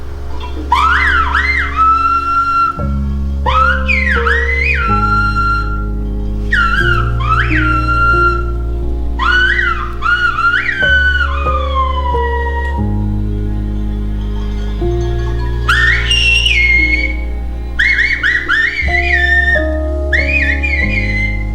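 Silbo Gomero, the whistled language of La Gomera, rings out as a long series of loud, gliding whistled phrases with rising and falling pitch, broken by short pauses, over a sustained low droning backing.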